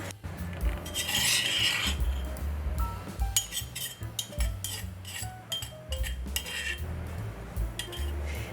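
A spoon scrapes finely pounded Thai curry paste out of a mortar, giving repeated close rasping scrapes and light clinks in an irregular rhythm, with no talking.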